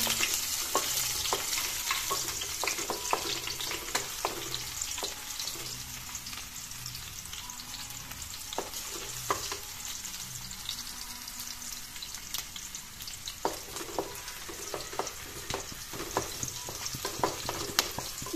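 Onions and a bay leaf fry in a hot kadai for a mixed vegetable curry, giving a steady, even sizzle broken by frequent scraping strokes of a spatula stirring throughout.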